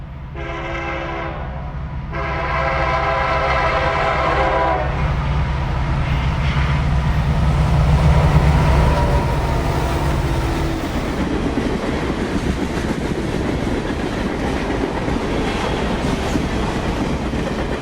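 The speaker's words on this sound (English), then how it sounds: "The next southbound is a UP-led Q33916, a Willard, Ohio to Cincinnati manifest." A UP-led southbound manifest freight, Willard, Ohio to Cincinnati, on the CSX Toledo Sub sounds a long horn blast, then rumbles loudly past with steady wheel clatter, close and sustained, no voices.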